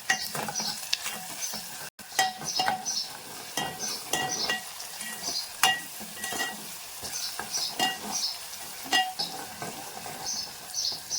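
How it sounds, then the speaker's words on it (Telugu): Chopped onions fry with a little salt in a pan for a mutton, mango and brinjal curry, giving a steady close sizzle broken by repeated scraping and stirring clicks. "కొద్దిగా సాల్ట్ కూడా వేస్తాం, త్వరగా మనకి ఆనియన్స్ అనేది వేగిపోతుందండి."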